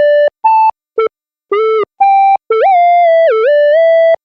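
Pulse synth lead from a lofi drum pack plays alone, a bright buzzy tone in short separate notes before sliding into a longer, wavering held phrase.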